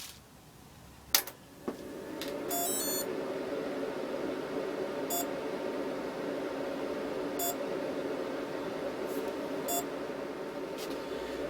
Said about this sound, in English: the speed controller will cause the motor to beep